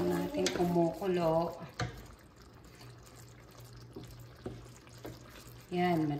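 Canned coconut milk simmers in a pan for Bicol express, a soft bubbling under a quiet kitchen, while voices speak at the start and end.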